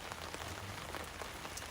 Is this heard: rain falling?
yes